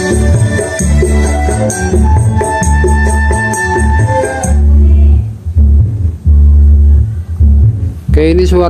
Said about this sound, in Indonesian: Oke, ini suara subwoofer ya lur.